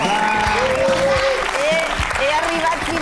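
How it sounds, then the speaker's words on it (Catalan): Studio audience applause, loud and sustained clapping close by, with voices talking over it. "un altre aplaudiment"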